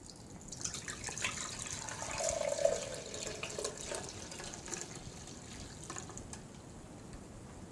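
Blended oat milk pours and trickles through a fine strainer, a soft continuous liquid splash and drip, close and fairly quiet, swelling briefly midway before settling to a gentle run.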